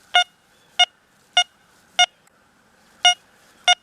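Deus 2 metal detector running the general program with silencer at 1, sounding over a buried colonial nail: six short, evenly spaced electronic beeps, crisp and clear against near silence.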